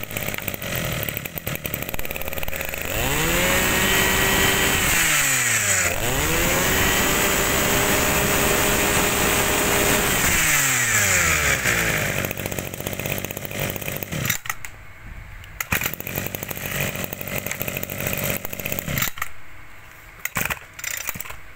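A used Japanese brush cutter, model 260, runs loud and close: its two-stroke engine revs up and falls back twice in rising, falling sweeps, then settles into a rough, buzzing idle, with no voices.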